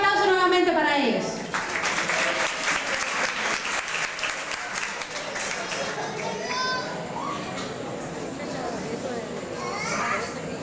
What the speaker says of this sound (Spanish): Un aplauso nuevamente para ellos.